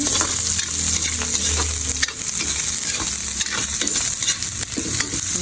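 White onions sauté in a pan for a mussel dish, with a loud, steady sizzle and frequent clattering stirs close by. There is no speech.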